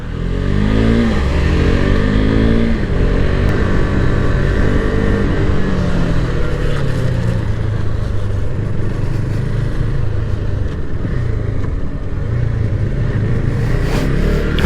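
A KTM RC 390 motorcycle being ridden on the road during break-in, its engine loud and close throughout, the single-cylinder note rising and falling as the rider accelerates and eases off, with wind rush and no talk.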